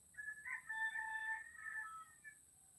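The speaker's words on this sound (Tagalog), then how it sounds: "Yes, I have chickens." Rooster crowing faintly at a distance, a drawn-out tonal call over a quiet background with a little low clucking from chickens.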